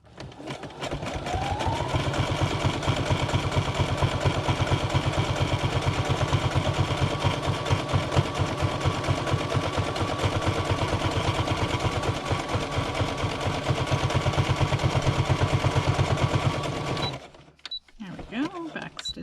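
A sewing machine stitches paper pages into a handmade traveller's notebook, a steady rapid mechanical whir of needle strokes running close and loud for about seventeen seconds before stopping abruptly, followed by faint handling noises.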